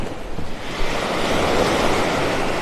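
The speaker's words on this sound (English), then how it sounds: "With these little waves, kind of makes you a little happier" Small ocean waves washing onto a beach in North Naples, Florida, a loud continuous rush of surf swelling slightly after the first second, with some wind buffeting the microphone and no talk.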